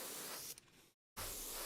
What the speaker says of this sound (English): After spraying the matte varnish,